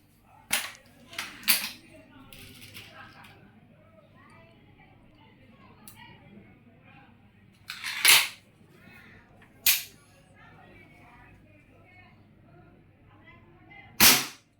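Hatsan 95 air rifle firing at a box, several sharp cracking shots spaced irregularly, some in quick pairs, each a sudden loud snap above a quiet background with faint low murmuring between them.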